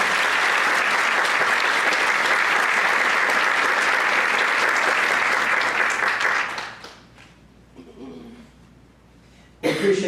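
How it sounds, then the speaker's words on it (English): A room full of people applauds a retiring teacher at an honor student breakfast, dense sustained clapping that fades out after several seconds, leaving quiet room noise before a voice starts speaking again. "So let's round of applause for Miss Callie."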